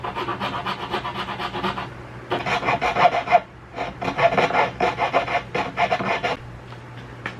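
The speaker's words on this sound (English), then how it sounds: "I'm gonna get a rat tail file and do a little bit more on the inside of here" A rat tail file rasps inside a hole in wood for a farmhouse table build, giving rapid, rhythmic back-and-forth strokes in bursts, close and fairly loud, with a brief pause partway through.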